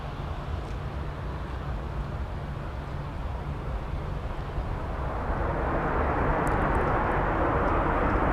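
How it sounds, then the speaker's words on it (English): A Southwest airliner lands at Minneapolis–St. Paul and deploys thrust reversers, a broad distant jet rumble that swells into a louder roaring rush near the end, with no voices. "Somebody's throwing on some thrust reversers, and it's Southwest."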